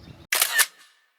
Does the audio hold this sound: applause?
no